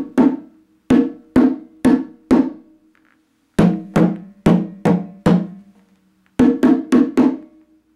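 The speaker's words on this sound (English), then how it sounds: "Muffle is the next tone you need to learn how to play." Muffled conga tones struck at medium-loud volume, short choked slaps in three bursts of four to five hits each, separated by brief silences, played alone without talk.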